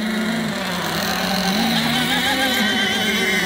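A small high-revving nitro engine on a radio-controlled racing hydroplane boat whines steadily, its pitch wavering up and down as it races, loud and close throughout.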